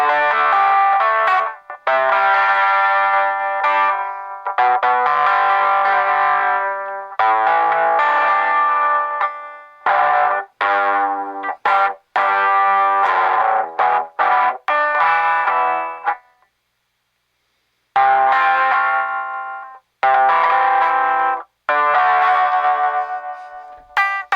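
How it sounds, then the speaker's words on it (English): Electric guitar is plucked with the fingers through heavy distortion, loud sustained notes and short phrases separated by brief pauses, with individual notes still distinct and no talking. "With fingers, even with distortion, you can still hear the notes."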